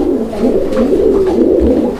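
A pigeon coos close and loud, a low throaty rolling call sustained over two seconds with no other sounds.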